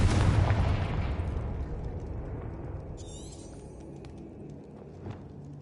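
A Confringo blasting spell goes off in Hogwarts Legacy: one loud, close explosive burst that decays into a long rumbling tail, with a brief whooshing shimmer midway.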